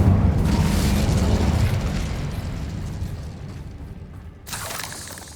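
A fire spell cast in the game Hogwarts Legacy, a loud whooshing burst of flame that roars and slowly fades, followed by a brighter crackling flare near the end.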